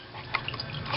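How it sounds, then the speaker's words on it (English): Motor oil drips slowly from under a Lexus RX350 into a bucket during an oil change, making soft, close, irregular drips against faint background hiss. "See, it's still dripping a little bit, and catch the oil filter."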